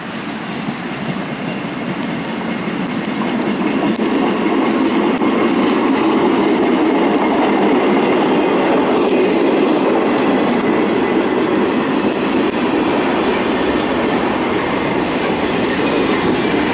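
A train rolls steadily over the rails near St Denis and Relay, around the Thomas Viaduct, giving a loud, continuous rumble with wheel clatter and faint squeal that holds for the whole stretch, with no voices.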